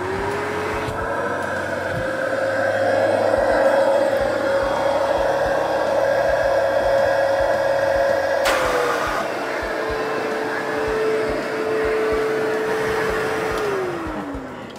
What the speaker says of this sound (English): what's up with the vacuum?